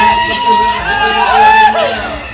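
Crowd roaring and cheering in a bull riding rodeo arena during a July festival, a steady loud hubbub with a voice speaking over it throughout.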